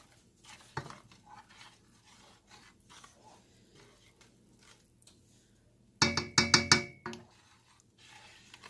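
A spoon stirs orange marmalade mixture in a pot before heating for canning, with soft sporadic scraping and clinks, then a louder burst of rhythmic scrapes near the end.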